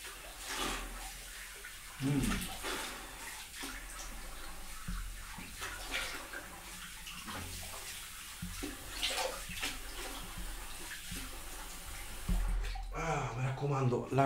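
Water runs steadily from a tap during shaving with splashing and gurgling, loud and close, while a person talks intermittently over it.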